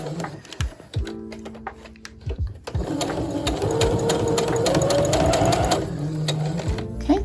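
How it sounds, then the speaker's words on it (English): A sewing machine stitching vintage Barbie doll clothes, a few short starts and stops, then a sustained steady run of rapid mechanical stitching, close and fairly loud. "When sewing, you can use pins, or you could just straight up sew it yourself."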